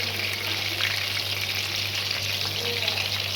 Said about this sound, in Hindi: ज़्यादा कोफ्ते एक साथ फ्राई नहीं करेंगे